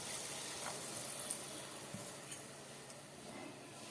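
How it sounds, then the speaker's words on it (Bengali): Water poured into a pan of potato curry cooking with fried spices, giving a steady sizzling, bubbling wash that fades into a softer simmer, with a few faint clinks of a utensil against the pan. "এবার আমি জলটা দিয়ে দিচ্ছি।"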